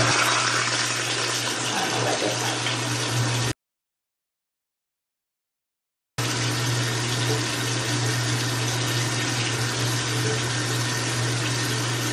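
Tap water runs steadily into a sink while a face is washed, a loud continuous splashing rush with a low hum beneath it, cut off by a few seconds of silence before flowing again.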